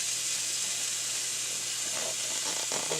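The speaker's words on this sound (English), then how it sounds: "Hear that sizzle? That's how you know your pan's hot." A faint, steady high hiss of a hot pan sizzling while making a grilled cheese sandwich, continuous and close, with no talking.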